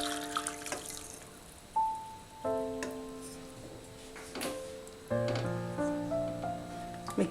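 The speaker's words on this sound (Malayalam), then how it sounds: "ഓഫ് ചെയ്തതിന് ശേഷം ആ ചെമ്പരത്തിയുടെ ജ്യൂസ് ഇതിലേക്ക് ഒഴിക്കാം" Hibiscus juice is poured into a cardamom syrup after the stove is turned off, giving several short bursts of liquid splashing with ringing, rising tones from the vessel in a quiet kitchen.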